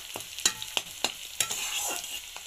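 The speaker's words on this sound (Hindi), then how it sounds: "मैं पहले यहाँ पर प्याज को फ्राई कर लेती हूँ" Onions frying in a pan, a bright continuous sizzle with several sharp spoon knocks and scrapes at irregular intervals, close and fairly loud, with no voices.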